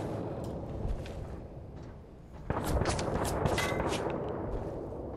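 A grenade blast from the video game Fallout 4 lands mid-fight. A low rumbling boom hits partway through, above ongoing loud noisy gunfire and combat din.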